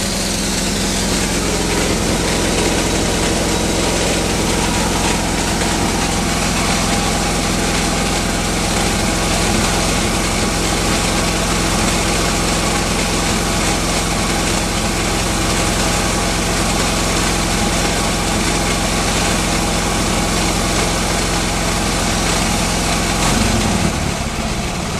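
A Harley-Davidson 6.5 CR engine idles on its first run after its heads were decked 0.150 inches: a loud, close, continuous lumpy rumble that shifts briefly near the end.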